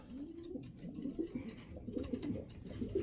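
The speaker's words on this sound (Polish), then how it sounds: "To są gołębie." Breeding pigeons coo softly in low, throaty bursts, several overlapping calls close by with no talking.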